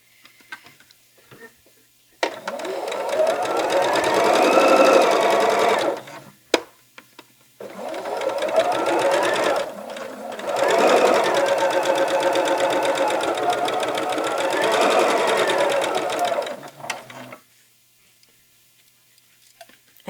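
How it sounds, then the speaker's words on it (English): A sewing machine stitches a quilt block seam in two long runs of a steady, fast mechanical rattle, separated by a brief pause and ending in quiet. "We're just going to have to sew it into the seam."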